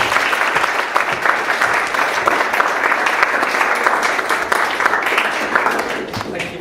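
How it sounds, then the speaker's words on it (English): A debate audience gives sustained applause, dense, steady clapping from a full room that holds strong throughout and eases slightly at the close. "So if we could do that now, round of applause"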